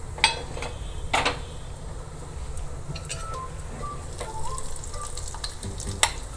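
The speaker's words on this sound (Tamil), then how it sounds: "இப்போ நெய் நல்லா சுட்டு எடுத்து இந்த முந்திரி பருப்பை அதில் போட்டு வறுத்துடுவோம்." Cashew nuts frying in hot ghee in a pan: a continuous soft sizzle with a few sharp clinks and scrapes of a spoon stirring against the metal, fairly quiet and close, without speech.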